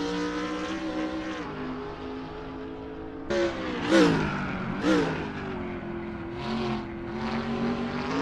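Race car engine in a racing sim replay, viewed from a static trackside camera: a steady high-pitched drone that surges with sharp revving passes around the middle and fades between them, with no talking.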